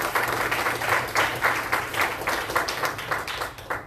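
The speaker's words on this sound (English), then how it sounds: "Let's give them a very big round of applause." An audience at a Cruise Holidays and Holland America Line stage event breaks into steady, enthusiastic applause, dense rhythmic clapping from a room full of people, fairly close and sustained throughout.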